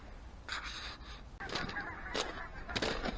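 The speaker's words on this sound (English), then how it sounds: "You can hear the geese on the far side over there getting a bit agitated" Geese on the far shore of a wintry waterside honk in agitated bursts, several distant calls overlapping and repeating against a soft background of wind and water.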